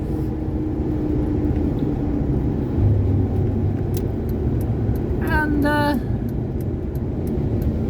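A 1981 Fox-body Ford Mustang cruises along a rolling, twisting road, giving a steady in-cabin engine and road rumble, with a short tonal whine midway and a brief spoken word.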